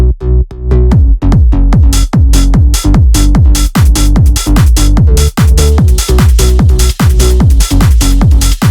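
Trance track layers an organ with punchy synth bass, producing loud, evenly spaced pulsing hits with sharp attacks in a steady driving rhythm, alone without talking.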